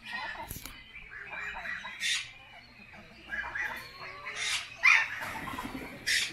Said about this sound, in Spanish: Gallinas ponedoras.